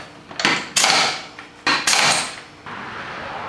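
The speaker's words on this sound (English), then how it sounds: "you want to loosen your lug nuts up while the machine is still on the ground" Lug nuts being loosened on a Can-Am Outlander ATV wheel while the machine sits on the ground, with several loud, sharp metallic bursts close by, followed by a steady hum.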